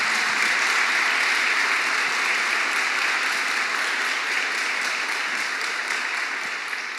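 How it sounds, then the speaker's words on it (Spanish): Church congregation applauding during a worship service, with sustained, loud crowd clapping that holds steady and fades only slightly toward the end, and no talk over it. "Dele el aplauso al Señor fuerte."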